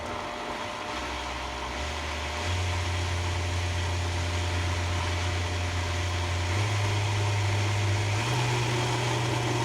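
Steady motor drone of a blending bowl churning peanut butter, a constant loud whir that steps up in pitch a few times as the speed rises, with no talk.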